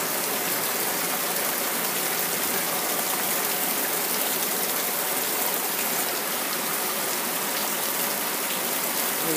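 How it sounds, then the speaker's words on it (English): Heavy rain pours down steadily in a dense, unbroken wash of noise, loud and close throughout, with no voices. "All that rain."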